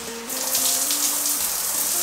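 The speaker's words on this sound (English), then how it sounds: "Shower is working." Water gushes steadily from a newly working shower in an old house bathroom under renovation, a continuous hissing spray that stays loud and close for the whole moment.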